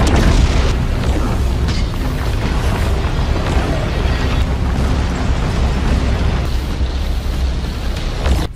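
A massive explosion from a sun-moon divine needle attack in the Soul Land 2 anime, a loud continuous roaring blast with heavy low-end rumble sustained for the full stretch.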